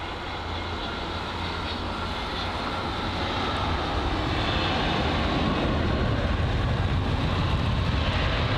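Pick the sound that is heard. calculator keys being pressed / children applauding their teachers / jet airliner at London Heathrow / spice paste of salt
jet airliner at London Heathrow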